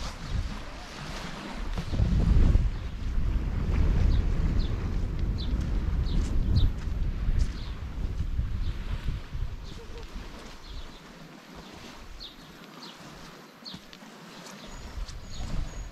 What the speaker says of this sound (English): the rain's coming straight in and the wind just happens to be that side